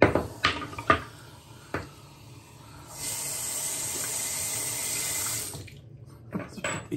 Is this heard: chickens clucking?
no